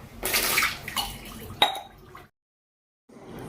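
Water splashing and running into a pot in a home kitchen while heating water, a loud broadband rush with a clink near the middle, then a brief pause before the flow resumes.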